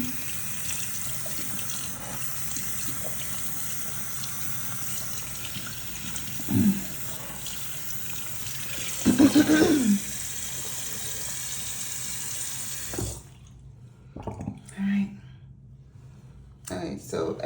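Tap water runs steadily while conditioner is rinsed out of a section of hair, a continuous broadband wash with a few brief voice sounds over it, then the flow stops and quieter splashes follow.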